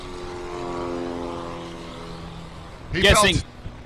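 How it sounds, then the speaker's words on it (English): A Cessna at a STOL competition, its engine drone steady and fairly close at first, then a loud, brief whooshing pass near the end, under continuous commentary. "And Sheldon Hetherington in the Cessna."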